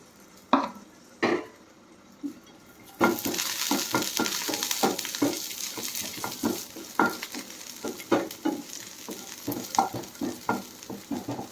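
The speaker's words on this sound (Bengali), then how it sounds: "এই কাজু কিশমিশগুলো ভাজবো পোলাওয়ের মধ্যে দেব তাই আমি এখানে ঘি দিয়ে নিয়েছি" Cashews and raisins frying in melted ghee in a frying pan: a few sharp spoon clicks, then a steady sizzle under a rhythmic series of close stirring scrapes and taps against the pan.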